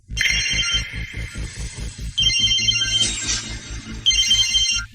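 Mobile phone ringtone from an incoming call, a bright electronic melody repeating in short phrases over a pulsing beat, loud and close with no talk.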